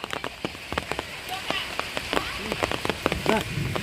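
Steady rain patters on a surface, with scattered droplet taps and a few louder splashes throughout, fairly close.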